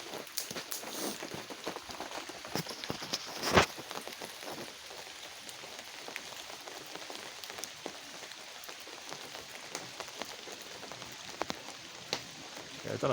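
Heavy rain drums steadily on a tent in woodland, a dense continuous patter with scattered louder drips and one sharp tap near the start.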